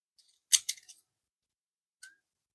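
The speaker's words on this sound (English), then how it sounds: "Scissors it is." Scissors snipping into the wrapper of an emergency food bar, one crisp cut followed by a few quick rustling snips, then a single short snip after a pause, in an otherwise quiet room.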